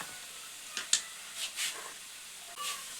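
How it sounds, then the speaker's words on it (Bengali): Onions frying in a pan until reddish-brown, making a quiet, steady hiss broken by a few short crackles and pops, with no talking. "তো পেঁয়াজটিকে এখানে লাল লাল করে ভেজে নেব"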